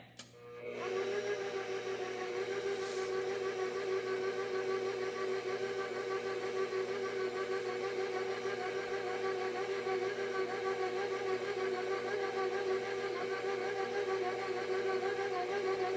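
An electric stand mixer runs on its slowest setting while mixing buttercream icing, starting up abruptly and then holding a steady, close motor whine for the rest of the clip.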